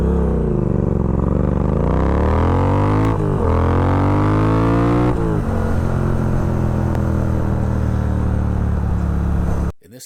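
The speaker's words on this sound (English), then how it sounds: "I had a really good launch on the Vulcan S, and at the same time, I had a very poor launch on the Speed Twin" Triumph Speed Twin 1200 and Kawasaki Vulcan S 650 motorcycles launching hard together, engines revving up in rising sweeps through gear changes, loud and near, then cutting off abruptly at the end.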